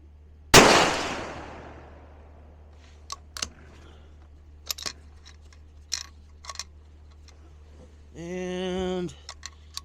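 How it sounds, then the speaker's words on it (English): A single loud 6ARC rifle shot firing Berger VLD bullets cracks up close and rings off, followed by scattered small clicks and handling noises and a brief electronic beep tone near the end. "I'm going to shoot the upper left-hand target"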